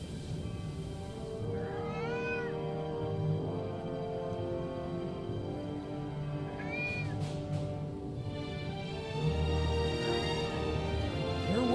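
A cat in the video game Foolish Mortals meows twice, a few seconds apart, over a steady bed of ambient game music and atmosphere.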